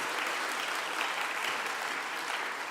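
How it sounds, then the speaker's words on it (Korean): A church congregation at a worship service applauds in a steady, dense clatter of many hands, filling the room evenly throughout. "박수 한번 해야 되는 거 아니야?"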